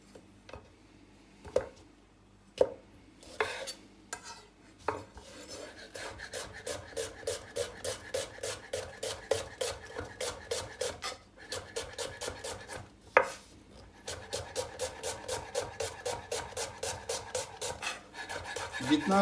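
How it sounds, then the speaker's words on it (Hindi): Knife chopping onions on a cutting board in a home kitchen, fast rhythmic taps in long steady bursts with brief pauses between runs, close and crisp with no talking over it. "सबसे पहले हम प्याज को काटते हैं, प्याज चॉप करते हैं"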